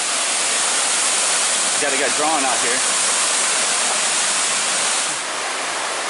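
Roaring waterfall on Eagle Creek Trail in Oregon, a steady broadband rush of falling water filling the whole clip, with a brief spoken remark partway through.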